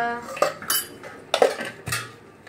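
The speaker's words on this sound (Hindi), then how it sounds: "देखो इस तरीके से मिक्स कर देंगे" A spoon scrapes and clatters against a pan while oats are mixed with salt and garam masala, giving a few sharp metallic clinks and stirring scrapes, close and fairly loud.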